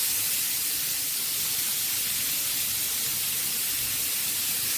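Chopped onion hitting hot oil in a pan for Bengali egg curry, giving a steady, dense hiss that holds at an even level throughout with no voices.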